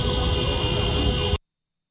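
Emergency sirens wail in dense traffic on a Nairobi highway during a police curfew crackdown, loud and continuous with steady engine and traffic noise underneath, cutting off abruptly.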